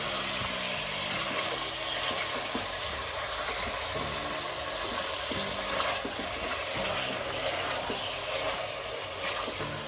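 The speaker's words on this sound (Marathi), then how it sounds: "हे आता आपण अगदी व्यवस्थित असं परतून घ्यायचंय" Chicken sautéing in a pot for a Marathi-style chicken soup, with steady loud sizzling and frying hiss and occasional stirring scrapes, no talking.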